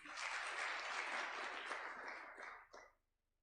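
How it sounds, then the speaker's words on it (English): Audience applause at a formal State House bill-signing ceremony, a dense, even wash of many hands clapping that holds steady for nearly three seconds, then thins out and stops. "A clap for him, please."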